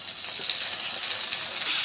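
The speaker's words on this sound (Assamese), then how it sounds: "মানে গাহৰি ভাজি" Pork sizzling and frying in a pan for a home-cooked Assamese meal, a steady close crackling hiss that runs throughout without any talk.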